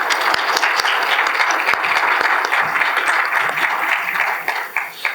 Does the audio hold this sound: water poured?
no